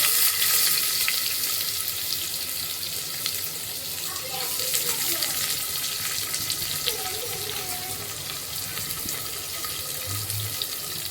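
Chopped onion frying in oil in a pan for chicken white kurma, giving a steady, dense sizzle that holds evenly for the whole stretch with no pauses.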